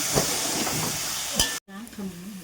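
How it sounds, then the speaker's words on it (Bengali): Drained taro leaves stirred in a hot pan of oil and spices, giving a soft sizzling, scraping hiss throughout before a brief gap and a low steady hum. "এই যে জল ঝরিয়ে নেওয়া কচু শাকটা দিয়ে দিচ্ছি ভালো করে নেড়ে চেড়ে নেবো"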